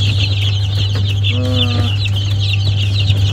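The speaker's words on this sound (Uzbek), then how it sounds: "Legbar, dalmatin, plimutruklar bor." Legbar, Dalmatian and Plymouth Rock chickens at a poultry farm give a brief clucking call midway, close by, over a loud steady low mechanical hum and general coop noise.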